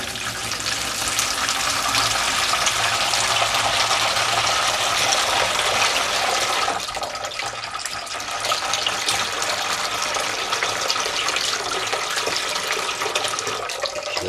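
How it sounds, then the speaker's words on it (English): Tepid water gushes steadily from a tap into a plastic container, a continuous broadband splashing rush that dips briefly midway and then carries on, with no one talking. "So we start off by filling this with some tepid water."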